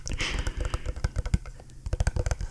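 Fingers type rapidly on a computer keyboard picked up by a high-sensitivity ASMR microphone, producing a dense stream of close, crisp key clacks and taps with uneven rhythm.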